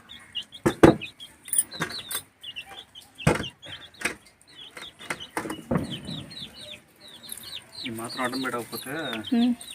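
Chickens cluck and chicks peep in short, scattered bursts nearby, with louder clucking toward the end. People talk intermittently in between.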